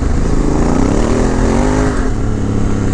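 Honda Africa Twin motorcycle fitted with a 44-tooth rear sprocket, engine note rising steadily under hard acceleration, loud and close with a continuous rev climb and no talking.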